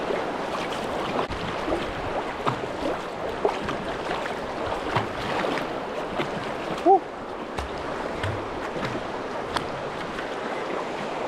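A 16-foot touring kayak paddled hard upstream against river current, with water rushing continuously and rhythmic paddle splashes and strokes throughout.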